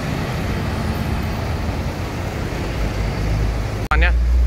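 A coach bus idles at an Indonesian bus station ahead of departure, its engine a steady low rumble throughout, broken near the end by a brief sharp hiss and louder surge, with a faint voice over the noise.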